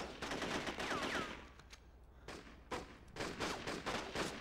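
Gunfire in the video game The Getaway: Black Monday, with rapid bursts of shots in dense clusters, some sharp cracks standing out, at moderate to low loudness against a noisy game background.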